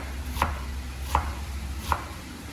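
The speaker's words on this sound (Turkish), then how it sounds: "küp küp doğruyor" Three distinct knife chops on a cutting board, chopping vegetables into cubes, evenly spaced and fairly close, with a low steady hum underneath and no talking.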